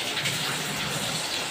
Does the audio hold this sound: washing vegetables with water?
yes